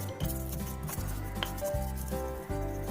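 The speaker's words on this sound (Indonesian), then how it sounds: "Lalu kita akan ulek dulu ini sampai halus." A stone mortar and pestle grinds spices into a smooth paste for bakso rujak, giving rhythmic scraping and rubbing strokes close by over a low background hum.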